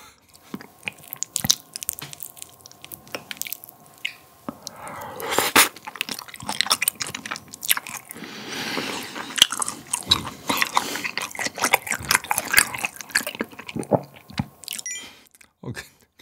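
Close, wet chewing and biting of raw 1++ Hanwoo beef cuts such as tenderloin and sirloin, repeated soft crunchy mouth sounds at a steady uneven rhythm, with a brief voice partway through.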